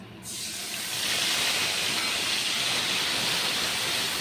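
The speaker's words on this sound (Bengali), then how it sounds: "পেঁয়াজ আর টমেটো একটু আদা বাটা মতন করে কিন্তু পেস্ট করেছি পুরো মিহিন করিনি এটা আমি ছেড়ে দিচ্ছি" Onion, tomato and ginger paste hitting a hot pan for catla fish kalia: a sudden loud sizzle bursts in and holds as a steady, close hiss with no talking.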